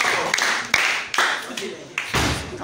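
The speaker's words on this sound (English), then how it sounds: "Hey, clap for me." Students in a form 3 classroom giving a short burst of claps, a few sharp separate hits with voices mixed in, close by.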